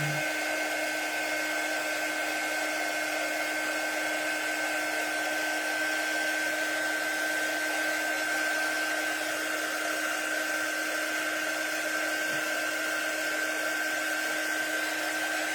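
Hair dryer blowing on freshly painted pencil-shaped classroom decor, a steady, loud whine and rush of air holding one even tone throughout.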